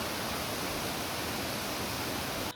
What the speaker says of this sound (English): our hike took us to a little waterfall